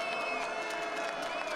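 Fans in the stands applaud a visually impaired or standing biathlete, Gorbunova, as she reaches the finish line at the Sochi Paralympic Winter Games: steady, moderately distant clapping and crowd noise with some cheering throughout.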